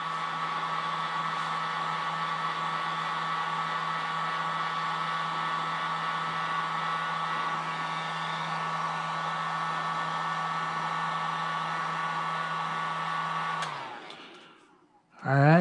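Heat gun or hot air blower running steadily to warm the sole of a 1985 Air Jordan Sky sneaker during restoration, a constant close whirring hiss that cuts off near the end.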